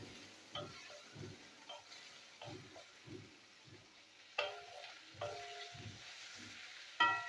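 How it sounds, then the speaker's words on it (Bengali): Grated coconut stirred in hot oil in a pan, spiced with nothing, for a spinach dish: soft sizzling under repeated scraping strokes of a spatula, quiet and close, with a sharper clatter near the end. "নারকেলটা একটু নাড়াচাড়া করে নেবো তেলেতে।"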